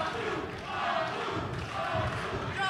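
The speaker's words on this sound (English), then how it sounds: "Here comes the crowd now getting behind Sandoval." Boxing crowd at a bout between Jesus Sandoval and Xavier Montelongo, a steady roar of cheering and shouting that holds through the whole stretch, fairly close and dense, with no single voice standing out.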